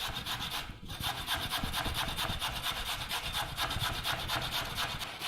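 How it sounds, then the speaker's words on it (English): Zucchini and carrot rubbed over a hand grater for soup, a steady rasping scrape repeating in quick even strokes, close and fairly quiet, with no talking. "getting some zucchini and carrot ready to go into the soup, which I find really handy by using a grater"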